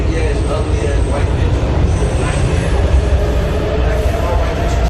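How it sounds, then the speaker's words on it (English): Public transit train noise, a loud, constant rumble and roar with rattling from the carriage, close and steady for several seconds before cutting off abruptly. "the train noises kind of drown him out for a while"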